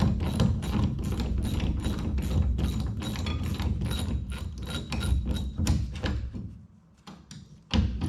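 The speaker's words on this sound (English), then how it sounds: "got the ratchet now. Probably make life a little easier" A ratchet wrench turns out bolts on the front of a 1986 Kenworth W900B truck, giving rapid repeated metallic clicking bursts up close that pause briefly near the end.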